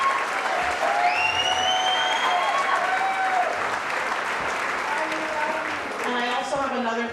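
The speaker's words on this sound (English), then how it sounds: "So can I please have a big round of applause for the chamber team, Julie Panchora and Stephanie Beach." Audience applause at a Chamber of Commerce awards banquet: sustained clapping from a large room, with scattered voices and a few whoops mixed in as the ovation carries on.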